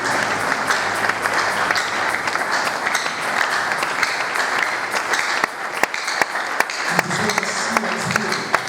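A church congregation applauds and cheers in praise of the king, dense steady clapping filling the space with a few louder claps standing out and voices mixed in.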